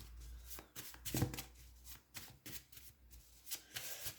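Tarot cards are shuffled close by in quick riffling bursts and soft slaps, repeated irregularly over a few seconds with no talking.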